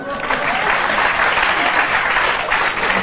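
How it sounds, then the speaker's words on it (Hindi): An audience claps loudly and continuously in a dense, even burst of applause, close and full throughout, with no speech over it. "ताली बजाइए।"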